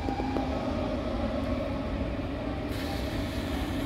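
A DDZ double-deck intercity train pulls away from Hengelo, heard from inside as a steady, loud rumble of wheels and running gear with faint tonal whines from the drive, with no talk over it.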